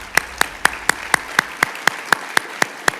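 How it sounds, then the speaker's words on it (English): Clapping at a donor appreciation luncheon, heard as a single evenly spaced series of about a dozen sharp claps in a steady rhythm, clear and close against a quiet room. "Just give them a round of applause."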